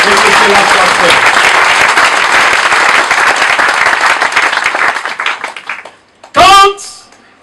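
A church congregation applauds and cheers the Lord, a dense, loud burst of clapping and voices that fades over several seconds, followed by a short spoken phrase.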